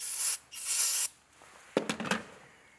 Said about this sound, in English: So here we got some brake cleaner.